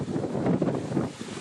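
Gusty wind buffets the microphone on a seaside cliff above waves hitting rocks, a loud continuous broadband rush with swelling gusts and no voices.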